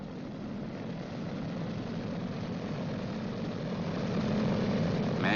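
Engines of a B-29 bomber run during a magneto check, giving a continuous propeller drone and a low rumble that grows gradually louder across the clip, with no voices over it.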